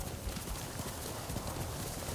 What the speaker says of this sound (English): I don't tend to ride the horse a lot.